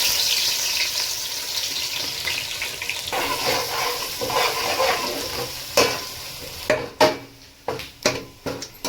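Onions sizzle in hot oil for a vegetable biryani, a continuous close frying hiss that gives way to several sharp clatters and scrapes of utensils against the pan toward the end, with no talking.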